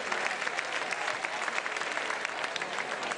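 A concert audience applauds the musicians, a dense, loud, steady wash of clapping from many hands filling the hall, with no voices heard over it.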